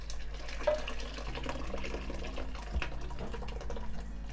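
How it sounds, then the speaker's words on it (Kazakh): Boiled white corn and its cooking water pour into a pot of simmering kozhe soup, making a steady, continuous splashing and gurgling over a low hum, with no talk. "Енді осының үстіне қайнатылған ақ жүгеріні суымен қосамыз."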